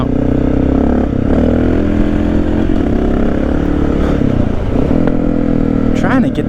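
A Honda XR650L dirt bike revving hard and close while shifting mid-wheelie on a ride from Lake Sacagawea, engine note rising and dipping with a brief clatter near the end.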